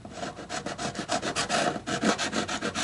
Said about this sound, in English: That one's the nut seating file.